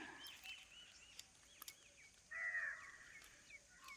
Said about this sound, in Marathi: एकदम कावळ्यांचा पण गोंगाट चालू आहे.